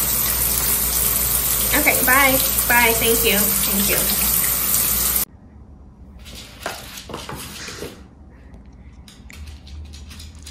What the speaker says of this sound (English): I'm trying to take a shower.